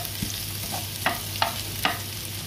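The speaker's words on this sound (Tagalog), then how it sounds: "Haluin ulit." Onions stirred in with tilapia in a frying pan: a steady sizzle with three distinct spatula scrapes in quick succession, close and clear, no voices.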